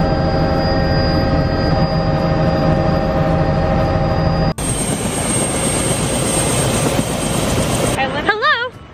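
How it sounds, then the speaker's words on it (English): Loud, constant helicopter engine drone with a steady whine, heard up close for several seconds, then a shift to a brighter, rougher roar. "So we just got off our helicopter."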